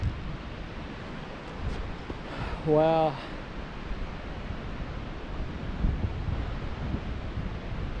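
A waterfall on a cliff-top walk in Australia's Blue Mountains sends up a steady, distant rushing roar, mixed with wind buffeting the microphone. A voice briefly exclaims partway through.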